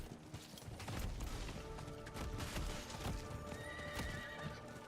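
A horse mount in the video game Diablo 4 gallops with steady clip-clopping hooves and whinnies, heard under dense game effects and clatter at a fairly low level.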